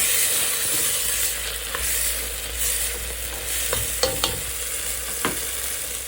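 Tomato, onion and bay leaf fry in a pan for goat meat biryani, giving a steady hiss of sizzling oil with a few sharp clicks and scrapes of a spoon stirring, close and with no voices.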